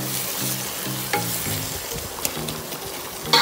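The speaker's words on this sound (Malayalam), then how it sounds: "ഇളക്കി കൊടുക്കുന്നത്." Rice for chicken fried biryani being stirred in a pan, with a steady frying sizzle and repeated scraping and clinking of the spoon against the pan, close and fairly loud, with no talking.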